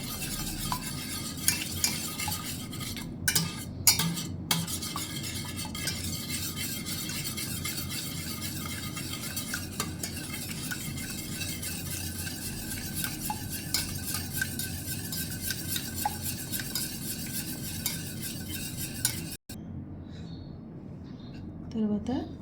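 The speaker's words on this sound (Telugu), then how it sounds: "బాగా నురుగు వచ్చేలాగా బీట్ చేసుకోవాలి." Eggs whisked briskly in a bowl for a frothy bread omelette, a fast continuous rhythmic clatter of utensil against the bowl running for most of the stretch while a voice talks over it, stopping abruptly near the end.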